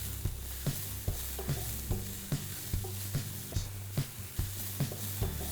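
Onion and mustard seeds fry in a pan with a low, steady sizzle, punctuated by regular scraping knocks of a utensil stirring them about once a second, with no talking.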